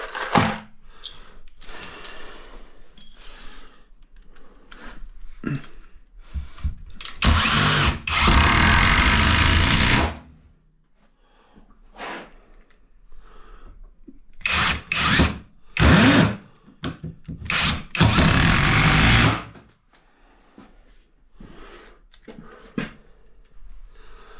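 Power drill driving screws into trim around a wall niche during a DIY job: two sustained whirring bursts of a few seconds each, plus shorter buzzy pulses between them, close and loud with quiet gaps.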